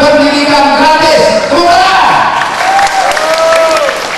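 Audience applause at a campaign dialogue inside a futsal hall, a loud sustained wash of clapping with crowd noise and voices speaking over it for about four seconds.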